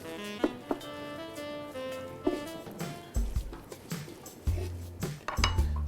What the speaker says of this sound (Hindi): इसको देते हैं एक मिक्स।